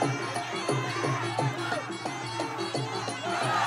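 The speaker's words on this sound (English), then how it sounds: "The crowd loving it." A live crowd at a kickboxing fight between a Cambodian fighter and a Czech opponent roars and cheers steadily, a dense wash of voices with rhythmic chanting filling the arena throughout.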